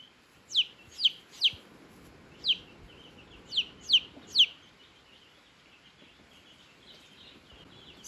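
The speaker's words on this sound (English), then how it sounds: "So I think this one's going to be a rooster" A young chicken, probably a rooster, gives a series of short, high chirping clucks in two quick clusters, close and clear against a quiet background, then falls silent.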